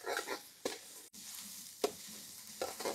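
Chopped onion and green chilli being stirred in a pan until lightly browned for mushroom masala, with a steady sizzle broken by several scraping stir strokes, no talking.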